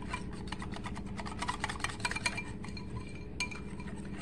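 Chicken batter being mixed in a bowl for sweet and sour chicken bites: steady scraping and clinking of a utensil against the bowl, continuous and close, with no talking.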